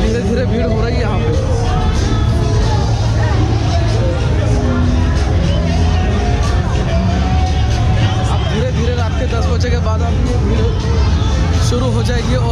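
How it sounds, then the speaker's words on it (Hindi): Dense crowd chatter fills Bangla Walking Street in Phuket at night, a loud, continuous babble of many voices with a steady hum of traffic and activity beneath. "अभी धीरे धीरे भीड़ हो रही है यहाँ पे।"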